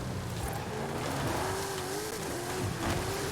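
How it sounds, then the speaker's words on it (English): DeLorean DMC-12 fitted with a twin-turbo V8 in the racing game Forza Horizon 5, a steady droning engine note with a rising whine riding through it, close and continuous, without speech. "I don't even know how you cram such a massive twin-turbo V8 in this thing."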